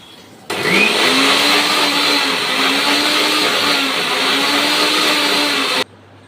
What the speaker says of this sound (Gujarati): બાફીને હવે મિક્સરમાં ક્રશ કરવાની છે.